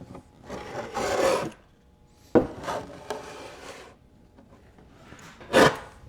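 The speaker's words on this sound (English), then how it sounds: "And then I see a hand planer here." A hand planer scrapes across painted barn wood in several rasping strokes, some long and some short and sharp, close up in a quiet workshop.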